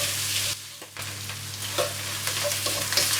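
Sliced pork stir-frying in a wok for double cooked pork gives a steady close sizzle, with a brief dip partway through, then scraping stir strokes under a constant low hum.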